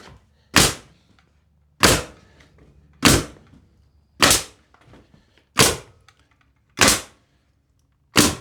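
Nail gun firing into timber framing for a solar power shed wall, seven sharp loud bursts spaced roughly a second apart, close by with faint handling noise in between.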